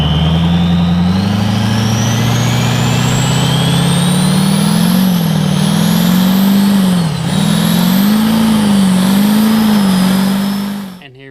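A twin-turbo Duramax LBZ diesel in a 2006 Chevy Silverado 2500 roars steadily through a burnout, its loud engine note wavering in pitch with rising turbo whine, then cutting off abruptly at the end.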